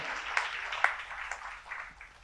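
Congregation in a church service clapping together, a faint, distant wash of applause with a few sharper individual claps standing out.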